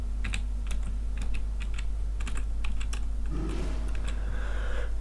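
Fingers tap a computer keyboard, entering a slash chat command during a Path of Exile game session, producing quick irregular clicks close by, then a brief soft thud near the end over a steady low hum.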